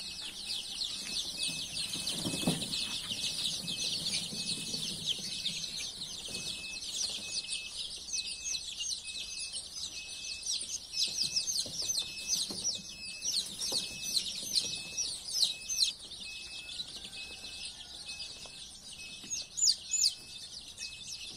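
Chicks and hens under heat lamps in a brooding coop on a cold day keep up a dense, steady chorus of high cheeping, with occasional low clucks and soft knocks.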